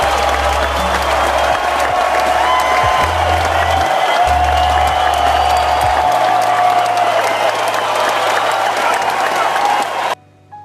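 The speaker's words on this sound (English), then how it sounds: "Nice applause track." A prerecorded crowd applause track from a talk on Eugene V. Debs, loud continuous clapping and cheering with low rumble, ending abruptly near the end.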